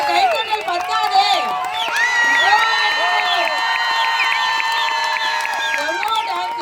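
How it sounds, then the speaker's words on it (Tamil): An audience at a Tamil cultural award event in Muscat, many of them children, cheers and shouts loudly with some clapping mixed in, a busy, sustained roar of raised voices. "இந்த கைத்தட்டல் பத்தாதே."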